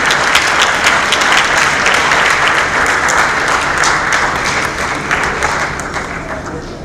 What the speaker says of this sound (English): An astounding round of applause for Ms.